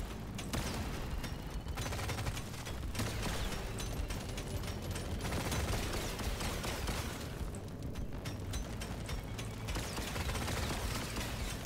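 Rapid, dense gunfire from a boomstick shotgun in the video game Deep Rock Galactic: Survivor, a continuous loud barrage of shots and mechanical clatter with layered game effects throughout.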